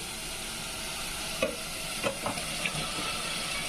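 Pieces of country chicken go into a turmeric-coated pan and fry with a steady, close sizzle, broken by a few light clinks of a utensil stirring, with no talking.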